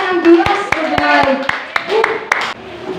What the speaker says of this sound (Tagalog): Pumalakpak po.